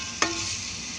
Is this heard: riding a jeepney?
no